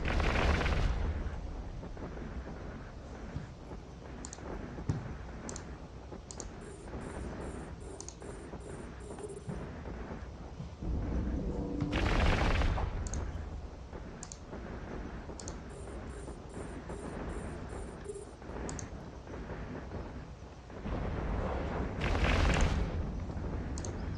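Space battle in EVE Online with ships blowing up and weapons firing, heard as loud booming bursts around 12 s and 22 s over a constant dense rumble, with scattered clicks and short tonal chirps between them.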